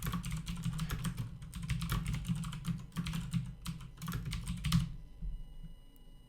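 Rapid, uneven clicking of a computer keyboard as someone types a blog post, near and clear, with short bursts of keystrokes and brief pauses before stopping near the end.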